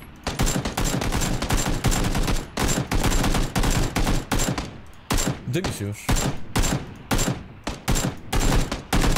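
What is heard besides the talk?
SCAR rifle gunfire in video game PUBG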